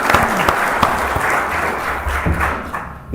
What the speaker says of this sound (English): let's give the VFW Post a round of applause